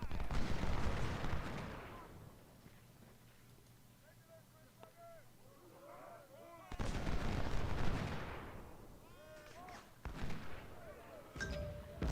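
Artillery fire in the Civil War strategy game Ultimate General: Civil War: dense booming bursts of cannon and gunfire at the start and again near the end, with quieter stretches between, while someone talks.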